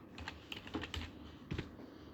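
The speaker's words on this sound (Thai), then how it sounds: "พิมพ์คำคมเราจะพิมพ์" Computer keyboard keys clack close by in short irregular bursts of quick strokes with brief pauses, and no one speaks.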